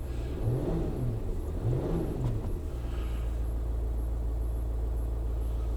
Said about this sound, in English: It's revving up fine.